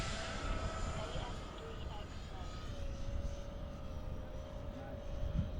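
An E-Flite F-15 model electric ducted-fan jet passes in the open air with a faint, rising and falling whine over a rough wind-like rumble, and people talk nearby.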